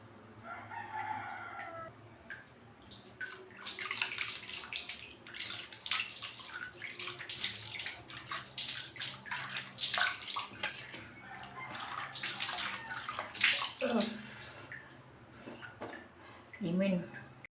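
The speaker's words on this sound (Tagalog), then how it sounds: "Banlawan na nako" Water from a tap runs and splashes steadily while a face is rinsed of exfoliating facial wash, continuous hissing over several seconds with a rooster crowing faintly in the background.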